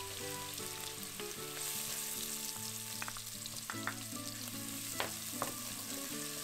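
Crushed garlic and ginger fry in a pan for Punjabi black chickpea curry, a soft, steady sizzle with faint crackles and occasional sharp clicks, like a spoon tapping the pan.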